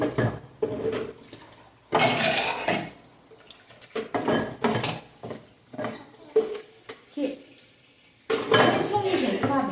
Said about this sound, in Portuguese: deixa eu lavar essa louça aqui, né?